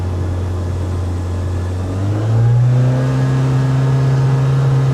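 A Saab car engine holding around 2,500 RPM, a steady loud drone that climbs in pitch partway through and settles at a higher, continuous revving hum, close and without voices.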